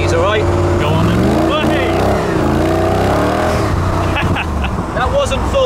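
A Rover V8-engined car accelerates hard but at part throttle, its loud throaty engine note climbing and falling in pitch over several seconds, with a voice speaking over it.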